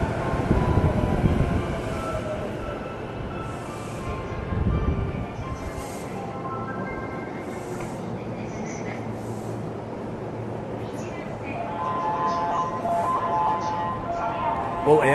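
A train in Japan gives a steady, rumbling ride noise with faint tonal whine and occasional swells, heard throughout under people talking.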